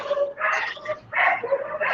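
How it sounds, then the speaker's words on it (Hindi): Dogs barking and yipping behind a caller on a livestream, repeated short yelps in two clustered bursts, fairly loud and close, with no talk over them. "सर आपसे तो कुत्तों की आवाज आ रही है पीछे से।"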